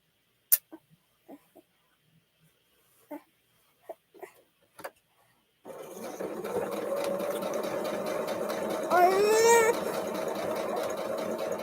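A home sewing machine stitches a quilted heart block with a steady, close mechanical whir after a few scattered soft clicks and handling taps.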